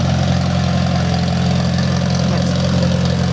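An antique gas engine idling at a summer show display, a steady, close, loud mechanical hum with a regular low thrum that holds unchanged throughout, no voices over it.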